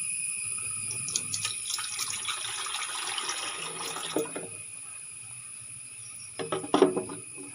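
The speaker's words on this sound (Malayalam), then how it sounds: "ഈ മീനിൻ്റെ വെള്ളമൊക്കെ ഇതിലേക്ക് ബക്കറ്റിലേക്ക് മറിക്കലാണ് നമ്മൾ മറിക്കാൻ പോവുകയാണ്" Water from a guppy aquarium pours into a bucket as a continuous rushing splash that swells in the middle, then trails off into quieter trickles and a final few sloshes.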